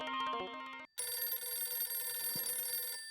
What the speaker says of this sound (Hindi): इतनी रात को किसका फोन है?